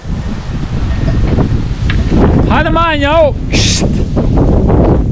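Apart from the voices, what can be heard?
strong wind blowing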